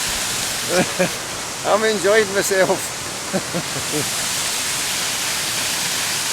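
Benlister Falls near Lamlash on the Isle of Arran rushes as a steady broadband hiss of falling water, continuous throughout, while someone speaks briefly over it.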